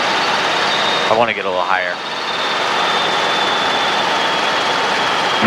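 Small training airplane engine running at full power in flight on approach, a steady loud drone throughout, with a voice talking briefly over it.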